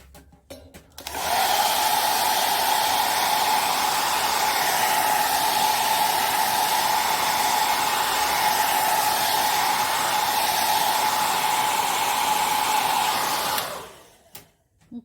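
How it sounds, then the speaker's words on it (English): A heat tool drying an art journal page blows a steady, loud whirring roar for about twelve seconds, starting abruptly after a click and cutting off near the end, with no talking. "use a heat tool so we can move forward"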